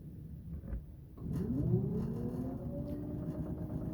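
An electric generator motor in a demonstration rig spins up, its whirring tone rising steadily in pitch after a few soft knocks, then holding at a higher hum, close and fairly loud with no talk.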